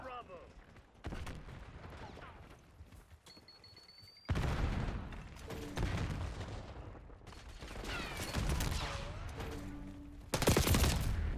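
Gunfire in a first-person shooter game comes in dense, loud bursts of rapid shots and booms, with a voice talking over the action.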